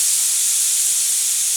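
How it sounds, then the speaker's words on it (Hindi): A pressure cooker on high heat, cooking chicken curry, releases steam in a loud, steady, unbroken hiss, close and continuous with no voices. "अब प्रेशर कुकर का ढक्कन बंद करके एक सीटी तीव्र आंच पर देते हैं।"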